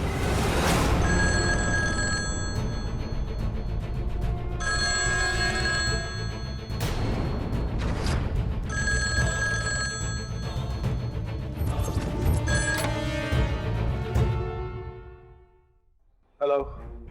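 An old-style telephone bell rings repeatedly in bursts for about fourteen seconds in a TV drama scene, with voices faintly underneath, before cutting to near silence.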